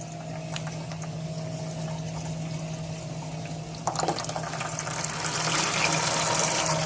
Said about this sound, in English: Bubbles like crazy.